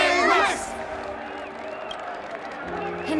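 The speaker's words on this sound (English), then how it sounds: "Let us gift our applause and cheers to these brave and dauntless Nameless." Crowd applause and cheering in a Honkai: Star Rail celebration scene: a brief burst of clapping and whoops opening the clip, then easing into a softer crowd murmur.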